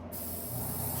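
An airbrush sprays paint in a short continuous hiss while realistic flames are being laid down, soft and close, beginning abruptly after a brief pause and holding steady with no talking.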